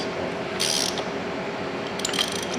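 Ratchet clicking as bolts are snugged down on a 14-bolt axle carrier of a 1994 Toyota 4Runner, two close bursts of quick metallic clicks about a second and a half apart.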